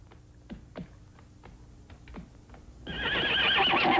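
A horse neighs in a movie scene, a couple of whinnies and some hoof or clatter sounds, then loud broadband noise takes over toward the end.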